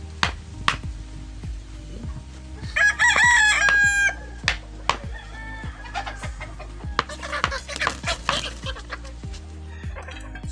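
Several chickens cluck and a rooster crows repeatedly on a farmyard, with sharp knocks from making a wooden bolo handle recurring throughout and wind in the background.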